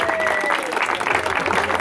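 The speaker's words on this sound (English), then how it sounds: "can we clap all the children and Sarah again, please?" An audience at a children's storytelling event at a festival applauds, a brief steady patter of many hands at moderate distance, with a whistle-like tone and some voices mixed in.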